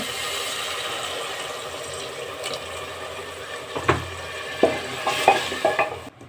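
Chicken and potato curry bubbles and sizzles in a pan after water is added, while a spoon scrapes and clinks against the pot in a few sharp strokes toward the end.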